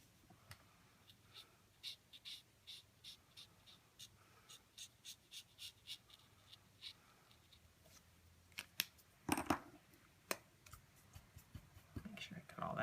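Scissors cutting paper give crisp, close snips in an uneven rhythm, sharpening into a louder cluster of cuts toward the end, with a voice talking softly in the background.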